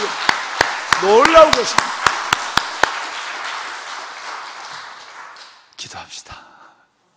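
A church congregation applauds with strong, evenly spaced rhythmic claps over a wash of crowd noise while a voice speaks; the clapping fades out after about five seconds, followed by a few stray knocks.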